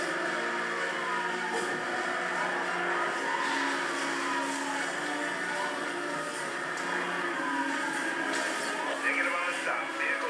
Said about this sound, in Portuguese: Vou voltar no nitro que já pega velocidade.